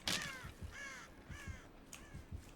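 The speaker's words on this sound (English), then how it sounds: "Saw the crow fly away." A crow in a video game caws several times in quick succession as it flies away, harsh rasping calls close and clear with no talk over them.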